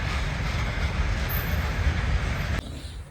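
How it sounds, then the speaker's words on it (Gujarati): A train rumbles past close by at a closed railway crossing, a loud continuous roar of wheels and cars that cuts off abruptly near the end, no talking. "આ ટ્રેન."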